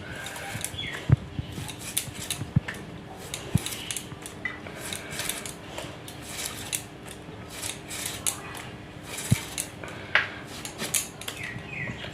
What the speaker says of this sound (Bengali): এবার দা দিয়ে এভাবে কেটে নেবো